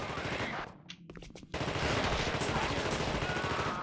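Rapid automatic gunfire in The Thing video game, a brief stutter of shots then a loud continuous burst of firing filling the rest, close and dense.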